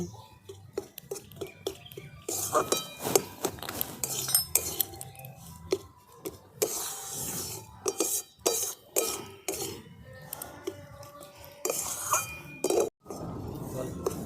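Scraping and clinking of a spoon stirring besan and semolina dough in a pan for barfi, a steady run of irregular metallic scrapes and knocks, with a voice talking in places.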